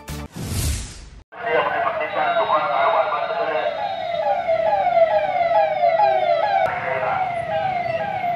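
A police siren wails continuously through market streets in Barmer, its pitch sweeping up and down, loud and nearby with traffic noise beneath; a brief rustle comes first.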